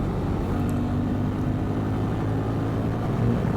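A Bajaj Pulsar N250 motorcycle, a 2023 Dark Edition, rides along steadily with a continuous low engine rumble and road noise, loud and constant throughout with no voices.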